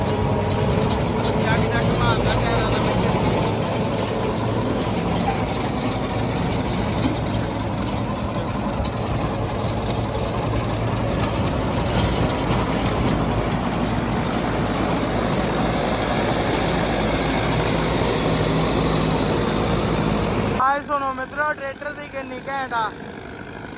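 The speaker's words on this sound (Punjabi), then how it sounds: "ਟਰੈਕਟਰ ਤੇ ਪੂਰਾ ਲੋਡ ਪਿਆ ਹੋਇਆ" A Sonalika 60 DI 4x4 tractor's 4712cc diesel engine drones loudly and steadily under heavy strain pulling a super seeder for a long stretch, close by, then its tone changes abruptly near the end.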